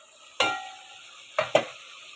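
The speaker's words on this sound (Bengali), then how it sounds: "তো অলরেডি দেখুন আমার ডালটা মশলার সাথে খুব ভালো করে কষানো হয়ে গিয়েছে।" A spoon scrapes through lentils frying with spices in a pan for a cabbage and egg dal, giving three sharp scraping strokes over a faint sizzle and no talking.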